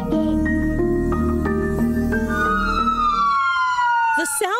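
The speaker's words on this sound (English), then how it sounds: "The sound of a siren can stop drivers in their tracks and even make your heart skip a beat." An emergency vehicle siren wails loudly and up close in a rising and falling pattern over engine rumble, then sweeps through a final long descending tone as it trails off.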